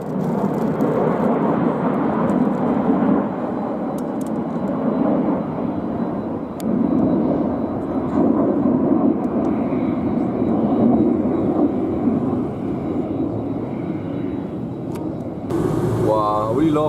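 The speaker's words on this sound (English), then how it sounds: "Wow, I really love those planes." Aircraft flying overhead in a line during a Fourth of July outing in Florida, a steady broadband engine roar that holds for the whole stretch, loud and continuous, with people talking around it.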